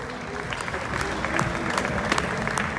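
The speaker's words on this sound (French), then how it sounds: "on applaudit Benjamin Rivière" Crowd applause for a racing driver being introduced at a team presentation, moderately faint steady clapping with a murmur of voices underneath.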